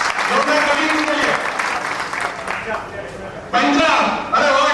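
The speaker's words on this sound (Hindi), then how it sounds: "जोरदार ताली के लिए।" An audience at a talk gives loud, full applause, a dense clapping wash that dips briefly midway before surging back strongly near the end.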